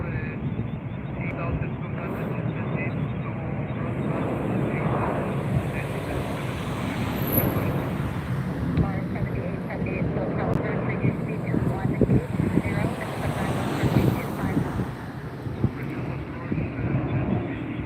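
A Qatar Airways airliner departing LAX, seen from the beach, gives a broad jet roar that builds and swells over wind noise, with people talking throughout.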